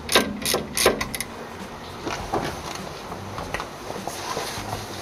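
A wrench working loose the upper brake caliper bolt on a Volvo 240/740/940 during parking brake repair: a quick burst of sharp metallic ratcheting clicks at first, then quieter intermittent clanks and handling noises, close up with no talking.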